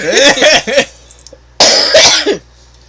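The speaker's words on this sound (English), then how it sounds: "I have to cough my head off now" Two bursts of harsh coughing fits, several hacks in quick succession each time, loud and close, with a short quiet gap between them.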